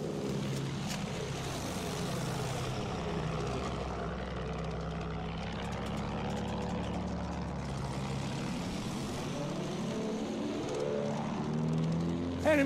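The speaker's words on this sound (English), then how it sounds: "Look up! Plane!" An enemy plane passing overhead in a Battlefield 1 battle at Fao Fortress, a loud propeller-engine roar with shifting pitch that swells and recedes amid busy game noise.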